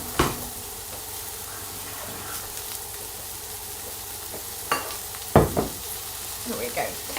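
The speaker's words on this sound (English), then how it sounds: "this is my preferred method for frying" Vegan meatballs fry in a little oil in a pan, giving a steady close sizzle broken by occasional scraping and clattering as they are stirred.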